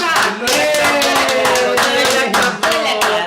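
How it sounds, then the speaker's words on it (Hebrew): Close, steady hand clapping praising a small child after finishing a meal, a dense run of claps lasting a few seconds with brief dips and voices mixed in. "עכשיו אחרי כל ארוחה הוא ירצה מחיאות כפיים"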